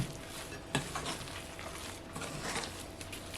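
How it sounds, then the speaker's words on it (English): Fresh milled flour and cranberry scone dough being mixed quickly in a bowl, with soft scraping and stirring textures and one sharper knock near the start, close by and with no talk. "I'm just going to give that a quick mix"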